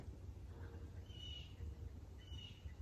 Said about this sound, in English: I hear the blue jay.